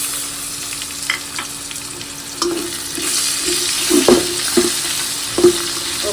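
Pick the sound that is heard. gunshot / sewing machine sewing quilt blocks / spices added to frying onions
spices added to frying onions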